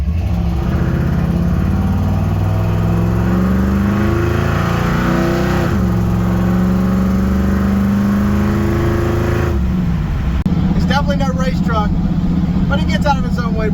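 A 1964 Ford F100 truck's engine revs hard and steadily from inside the cab, rising and holding for several seconds before easing off, with a person talking over it near the end.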